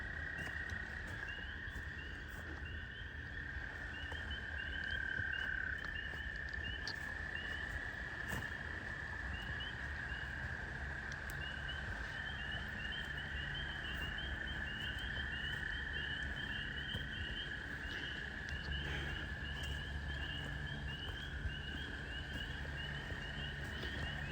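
Frogs chorus in the woods at midnight, a dense steady trilling drone that runs unbroken through the whole stretch with faint scattered ticks and rustles, no voices.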